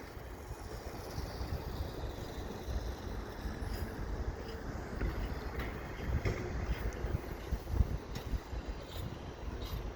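CP double-stack freight train arriving at night along O'Connell Avenue, a steady broad rumble and rattle of rolling cars throughout with no talk, moderately loud and continuous.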